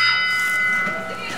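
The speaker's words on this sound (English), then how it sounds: "we all know it's time when we actually ring the dinner bell" Dinner bell at a rural field station ringing out with bright, sustained metallic tones that decay briefly, with a voice audible underneath.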